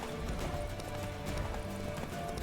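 Hooves of the horse Roach gallop in The Witcher 3: Wild Hunt, a fast, steady clip-clop rhythm that stays close and constant throughout, with no talk over it.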